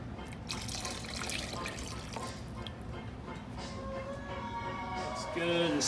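Water pours steadily into a gumbo pot as crab and sausage gumbo is being made, a continuous splashing, filling sound heard close up, with a voice speaking briefly toward the end.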